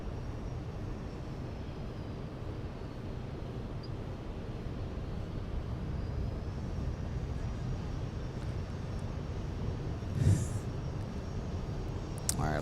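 Airliner departing runway 17 at Minneapolis–Saint Paul airport, a steady distant low engine roar sustained throughout, with a faint brief chirp near the end.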